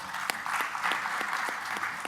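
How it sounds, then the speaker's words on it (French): Audience applause at a round-table session of a technology conference, a steady dense wash of many hands clapping at moderate distance, continuous for about two seconds with no talk over it. "Oui, des applaudissements"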